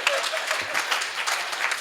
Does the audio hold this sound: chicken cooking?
no